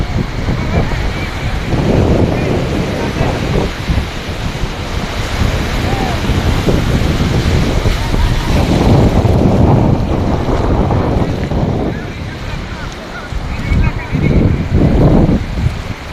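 Surf rolls and crashes steadily on a sea beach at Kuakata, with heavy wind buffeting the microphone throughout; a voice speaks briefly beneath the roar.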